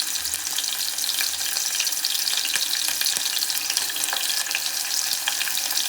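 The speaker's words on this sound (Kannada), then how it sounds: "ಸಿಡಿದಾದ್ಮೇಲೆ ಈರುಳ್ಳಿನ ಹಾಕೋತೀನಿ. ಇವಾಗ ಈರುಳ್ಳಿ ಹಾಕ್ತೀನಿ ನೋಡಿ." Onions fry in hot oil with cloves, cardamom and pepper for an egg biryani, a close, steady dense sizzle with faint crackles and no voices.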